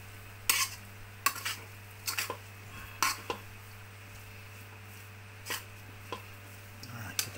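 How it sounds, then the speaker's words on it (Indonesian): Cassava leaves cooking in a pan are stirred with a utensil, giving about a dozen sharp scraping clinks spaced irregularly over a low steady hum, with no talk. "Ini terus diaduk-aduk."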